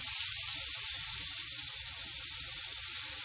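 Mushrooms fry in a pan with tomato paste for a rustic beef stew, giving a steady, close, loud sizzle and hiss that holds unbroken while they are stirred, with no talking.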